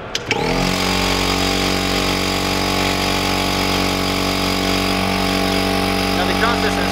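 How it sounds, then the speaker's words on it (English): A robust air compressor on a fire truck runs steadily to raise a heavier pneumatic light mast, a loud, continuous mechanical drone that kicks in after a brief start and holds evenly throughout. "Now because this is heavier, a larger light, got a little bit more robust air compressor."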